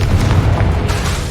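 Confringo fire spell explosion in the Hogwarts Legacy video game: a single short, heavy, rumbling boom, loud and close, with a deep low-end roar.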